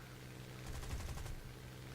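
Aircraft cannon fire from a Mark 6 Mosquito in a video game dogfight, a rapid burst of repeated shots lasting under a second, faint and distant over steady engine drone.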